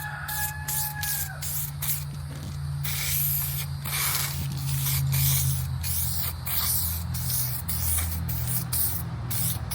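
A can of satin black spray paint sprays a car part in a driveway in short repeated bursts of sharp hiss separated by brief pauses, close and loud, over a low steady background hum.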